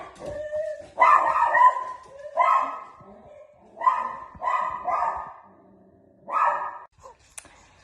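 A dog barks in a series of loud, close bursts, some drawn out and whiny, separated by short pauses.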